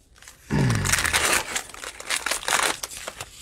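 Crinkly plastic cello wrapper on a sealed Prizm football card pack being snipped and torn open, a loud close rustling burst followed by scattered crackles and crunches.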